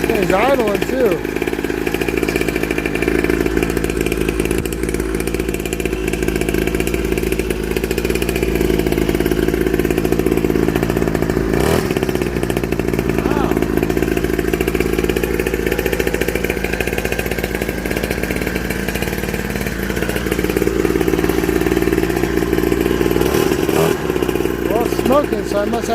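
A $250 Temu two-stroke dirt bike engine idles steadily, a buzzy, weed-eater-like drone held close and loud throughout, with a couple of brief sharp blips around the middle and near the end.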